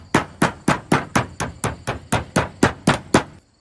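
Raw chicken breast is pounded flat to an even thickness, a dozen or so loud, close, evenly spaced thuds landing about every quarter second, with no voices.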